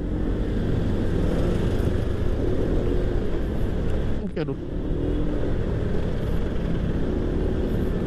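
Congested street traffic in the Padalarang market lane, crowded with angkot minibuses and few private cars, some vehicles running against the flow; a steady engine rumble and revving from close vehicles continues throughout, with brief talk in the foreground.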